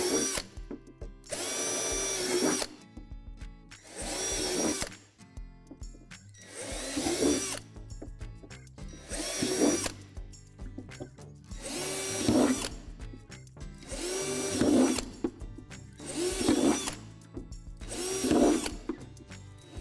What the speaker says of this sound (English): There are 12 holes in the bottom of the sink that need to be drilled out